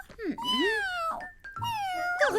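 A cat gives a couple of drawn-out, wavering meows in an indoor home setting, close and fairly clear, with short gaps between the calls.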